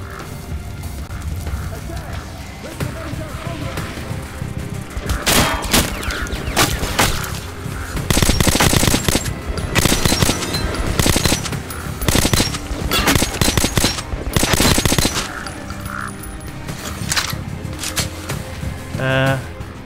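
Rapid automatic gunfire and bursts of shots in the first-person shooter Metro Last Light, loud and dense over a busy game soundtrack, with a voice speaking at times between the volleys.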